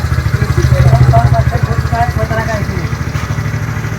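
A TVS Ntorq BS6 scooter engine runs after repair, idling with a steady, pulsing mid-low thrum close by while someone talks over it throughout.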